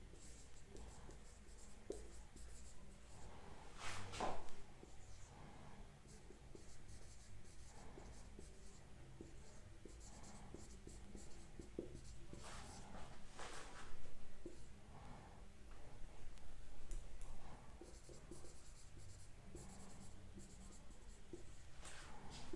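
Chalk or marker scratching on a classroom board during a lesson, with repeated short writing strokes across the span, faint and roomy, broken by occasional breaths or sniffs.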